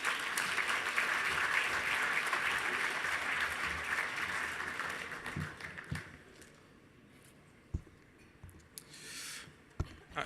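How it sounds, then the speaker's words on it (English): Gala audience applause rolls on for about five seconds, a full crowd clapping steadily, then dies away into a quiet room with a few scattered thumps and taps. "So let's give Jim a round of applause."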